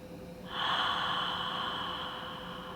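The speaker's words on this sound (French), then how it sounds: "Expirez par la bouche." A slow, steady mouth exhale during yoga breathing practice, a soft breathy rush that starts half a second in and holds, fading gently over about two seconds, close and alone with no talk.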